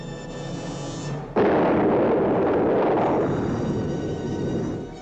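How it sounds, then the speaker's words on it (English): A bomb explosion sound effect from a 1955 animated cartoon bursts suddenly after a quiet hum, then a loud sustained rumbling roar slowly fades, with no speech. "And while one of them was dropping a bomb over here,"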